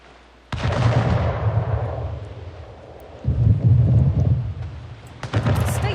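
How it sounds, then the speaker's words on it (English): Naval cannons from ships in the game Anno 1800 fire in heavy booming volleys, three deep rumbling blasts, each rolling out and fading before the next. "Fleet, prepare to fire."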